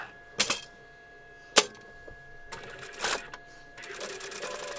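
A sewing machine stitches a ruffled doll skirt in short bursts. Brief whirring runs start and stop, then a longer steady run builds near the end, loud and close with no talk.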